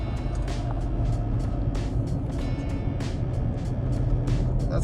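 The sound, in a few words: dually Toyota Tacoma truck driving off-road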